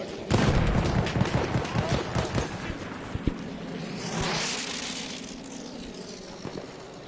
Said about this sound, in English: I think someone just fired off the shot behind you.